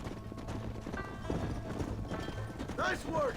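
Horse hooves clip-clop at a steady trot in the western video game Red Dead Redemption, close and rhythmic, with voices talking over them and a brief whinny near the end.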